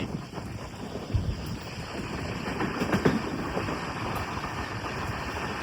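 Jhelum Express (Jammu Tawi to Pune) running between New Delhi and Mathura, heard from inside a general class coach as a steady low rumble with rattling and wind noise.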